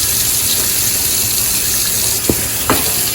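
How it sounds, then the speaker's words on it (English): Tap water runs steadily and loudly into a sink while a beef roast is washed for pot roast, with a couple of brief knocks and splashes near the end. "I'm gonna wash those, throw them down real good."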